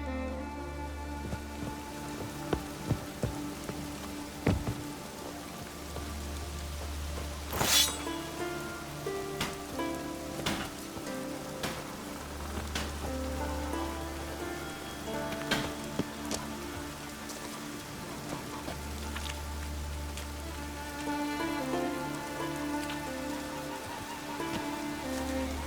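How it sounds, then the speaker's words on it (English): Steady rain patters over a low rumbling drone in the video game The Witcher 3: Wild Hunt, with scattered drips and a brief sharp splash partway through; no voices. "Oh, raining again."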